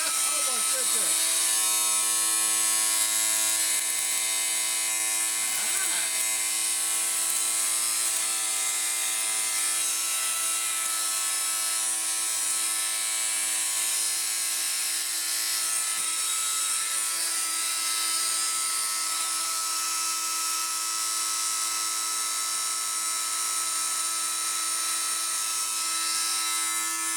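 A Numatic Henry HVR 160 vacuum cleaner motor runs loud and steady with a high, whining drone that holds throughout, while a person talks over it.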